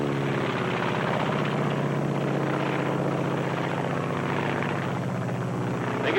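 Japanese Zero fighter plane from the Pearl Harbor era, its piston engine droning loudly and steadily overhead with a rich, rhythmic propeller throb and no talk.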